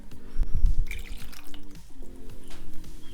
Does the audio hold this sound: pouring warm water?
yes